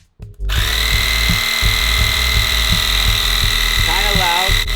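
A portable Lasfit TK1 tire inflator compressor clicks on and runs with a loud, steady buzzing drone and rhythmic pulsing while filling a tire, close by, with a brief voice near the end.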